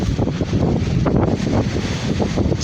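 Gusty wind buffets the microphone outdoors in the aftermath of Hurricane Ian, a loud continuous rumbling roar with rustling, no voices.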